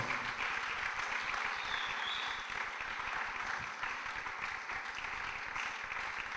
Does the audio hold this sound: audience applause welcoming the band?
yes